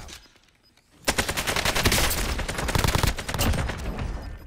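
Rapid automatic fire from an AK rifle in Call of Duty: Modern Warfare, loud and close, bursting in after a quiet second and hammering on in a dense, continuous stream of shots.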